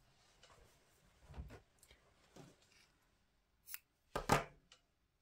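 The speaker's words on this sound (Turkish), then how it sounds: "Şimdi ben bu ipimi burada artık keseceğim." Scissors snip through crochet yarn for a hexagon cardigan, a few soft cuts ending in two sharper, closer snips with quiet pauses between.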